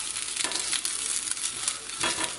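Beef kielbasa browns in a pan on the stove, giving a steady close sizzle that swells in brief bursts as the pieces are stirred or shifted.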